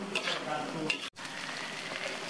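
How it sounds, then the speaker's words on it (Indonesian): Chicken filling sizzles and fries steadily in a pan on a stove, a loud continuous crackle with a brief break partway through. "Ini kita masak sampai kering airnya, baru kita matikan kompornya ya."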